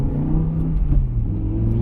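A BMW E60 M5 with a 500-horsepower V10 and basic bolt-on modifications hums steadily at a constant engine note, loud and close, with no voices.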